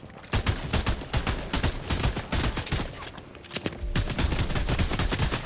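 Gunfire in Fortnite, dense bursts of rapid loud shots close by, almost continuous with a short thinner patch before firing picks up again.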